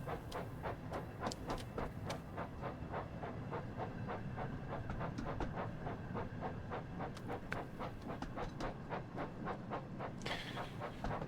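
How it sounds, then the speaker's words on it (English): A train of old Alex passenger cars hauled by Taurus locomotives rolls past nearby, with a steady rhythmic clickety-clack of wheels over rail joints throughout and a hiss near the end. "A train somehow a bit randomly composed of old Alex cars and Taurus locomotives in black livery."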